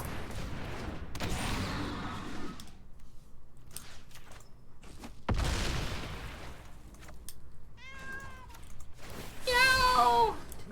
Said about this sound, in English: I gotta turn off this loud cat